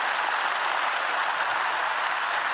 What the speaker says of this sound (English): I ask you please to applaud the staff of the European Parliament and the institutions